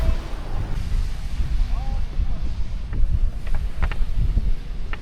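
A boat motors across the open sea off Lombok, Indonesia, a constant low engine rumble mixed with gusts of wind buffeting the microphone.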